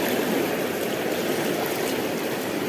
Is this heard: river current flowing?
yes